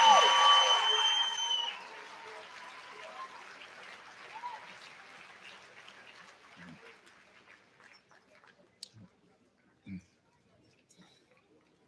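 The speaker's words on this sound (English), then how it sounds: "Clap. Thank them." A church congregation at a Sacramento miracle service claps for the musicians, a loud burst of applause that quickly thins to a few scattered claps under a voice speaking.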